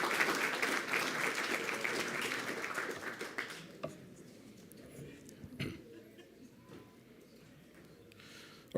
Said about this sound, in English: how about a round of applause for our next students who entered the room?